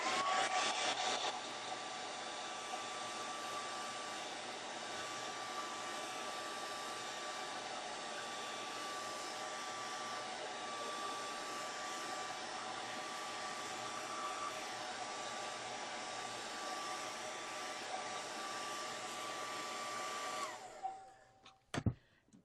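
A hair dryer blows steadily and loudly on wet paint on a gelli plate art card for about twenty seconds, a continuous whooshing motor hum with no talk, then clicks off abruptly near the end.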